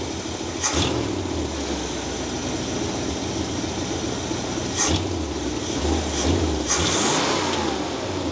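A 1964½ Ford Mustang engine with a newly fitted carburetor idles steadily and close by, with a few brief revs rising above the smooth low rumble.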